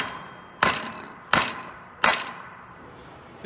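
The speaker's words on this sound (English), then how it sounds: "I'm just going to bump it against the table to pop it up." A metal No. 3 Morse taper piece from a drill-press fly cutter is knocked against a table: three loud, sharp, ringing knocks spaced under a second apart, with no talking.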